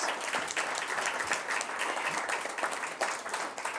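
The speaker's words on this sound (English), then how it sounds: "give the panelists a round of applause" Audience applause for a panel of speakers at a 2015 New York event, a steady dense wash of clapping that holds evenly across the few seconds with no talk over it.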